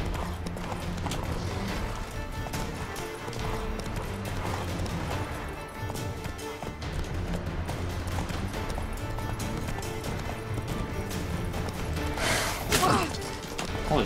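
A horse gallops in The Witcher 3, with steady clip-clopping hooves under dense game sound and music. Crashes and scattered voices run through the whole passage.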